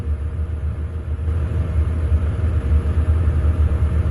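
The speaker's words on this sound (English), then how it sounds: "This T264 is really struggling on the ice" A T264 mining haul truck, empty and losing rear-wheel traction on an icy haul road, gives off a steady deep rumble of a large diesel engine, loud and constant with no pauses.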